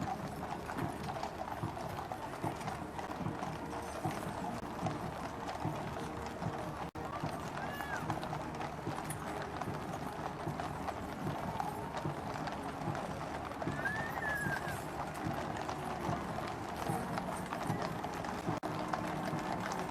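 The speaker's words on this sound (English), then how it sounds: "Some of the horses, understandably, a little restless at this long, slow walk" Horses of the Household Cavalry walk slowly in a funeral procession along the Long Walk, their hooves clopping in a continuous steady rhythm beneath crowd noise and a commentator's voice.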